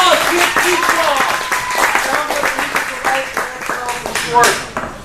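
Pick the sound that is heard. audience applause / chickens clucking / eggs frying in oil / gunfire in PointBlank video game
audience applause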